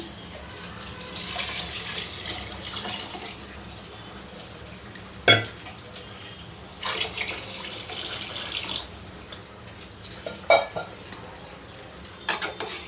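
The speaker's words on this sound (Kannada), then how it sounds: "ಈಗ ಮೆಜರ್ಮೆಂಟ್ಗೆ ತಕ್ಕಂತೆ ನೀರು ಸೇರಿಸ್ತಾ ಇದ್ದೀನಿ" Water poured into a pot for carrot pulao in a home kitchen, heard as a few bursts of splashing and rushing water with light metallic clinks of pots and utensils between them, fairly close and with no voices.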